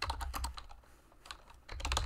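Typing on a computer keyboard while building a formula in Tableau Desktop, with two short bursts of quick close key clicks separated by a brief pause.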